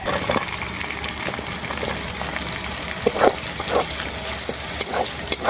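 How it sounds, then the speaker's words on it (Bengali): Chopped onions hiss and crackle in the fat left over from frying mutton, a dense close sizzle with a few louder bursts and clatters as they are tossed, no talking. "মাংস ভাজার সময় যে তেলটা বেরিয়েছে ওই তেলের মধ্যেই দিয়ে দেবো কেটে রাখো পেঁয়াজ"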